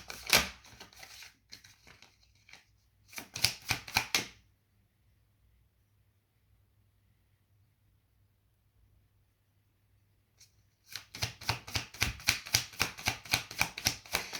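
Oracle cards are shuffled by hand, bursts of rapid crisp riffling and flicking up close, then a long near-silent pause before a longer stretch of fast, rhythmic shuffling.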